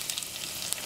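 Crushed garlic sizzles in hot oil alongside popped mustard seeds for a beef and koorka stir-fry, a steady close hiss with faint crackles throughout a short moment.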